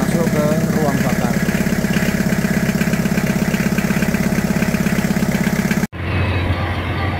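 An Isuzu Panther 2300 cc engine runs loudly with a steady, pulsing throb for several seconds, then cuts sharply and drops to a lower rumble.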